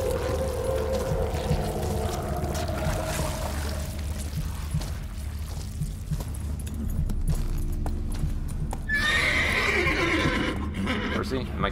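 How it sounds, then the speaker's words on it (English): A horse in The Witcher 3 whinnies near the end over a dense, constant bed of game ambience, with someone speaking over it. "Horsey? Am I killing the horsey?"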